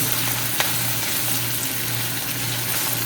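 Dry red chilli and capsicum with cumin frying in melted butter, a steady loud sizzle throughout with one brief sharp clink near the start.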